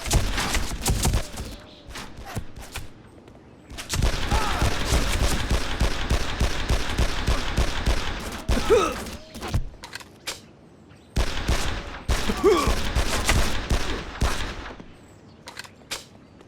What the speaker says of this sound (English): Don't let Verola escape. Shoot him in the head.